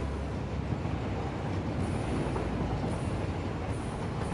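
Train passing in the video game Satisfactory, a continuous loud rumbling roar with a steady rattling texture and no voices.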